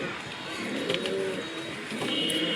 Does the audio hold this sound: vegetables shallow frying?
no